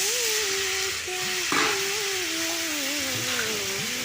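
Spices fry in hot oil in a pan for a Bengali kakrol (spiny gourd) fry, giving a steady hiss and sizzle beneath a wavering melodic tone.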